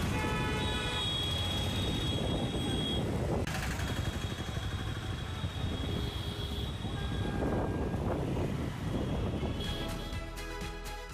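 Car horns honk repeatedly in chaotic Indian traffic, short toots and longer blasts overlapping above a dense, continuous traffic din, with no talking.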